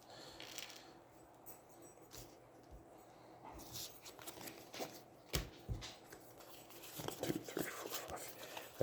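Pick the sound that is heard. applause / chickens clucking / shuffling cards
shuffling cards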